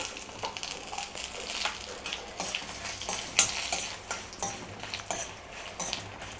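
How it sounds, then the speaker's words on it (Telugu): Dried red chillies fry in hot oil for a chilli tomato urad dal chutney, giving a steady, close crackling sizzle broken by scraping stirs and light utensil clinks, with no talk. "తొందరగా వేగిపోతాయండి ఎండుమిర్చి అవి"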